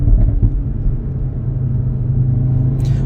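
A 2016 Audi RS3 with its 367 hp five-cylinder 2.5 litre engine runs steadily, giving a deep, even rumble that stays loud and close throughout with no voices.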